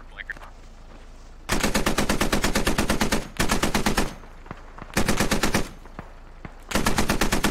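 Bursts of rapid automatic gunfire in the military shooter game Squad, four sustained loud volleys separated by short pauses, close and dominant with no talk.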